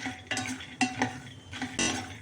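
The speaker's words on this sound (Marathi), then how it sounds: "शेंगदाणे सारखे असे उलटण्याने परतत राहायचे आहे म्हणजे ते भाजणार नाही जास्त किंवा जळणार नाही" Peanuts roasting in a pan over low heat for a dry chutney, stirred with a spatula that makes repeated rattling, scraping strokes, close and steady, with no talking.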